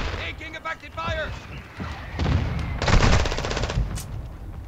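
Gunfire in the video game Call of Duty: Modern Warfare, bursts of rapid automatic shots with a loud sustained volley near the end, while someone talks over parts of it.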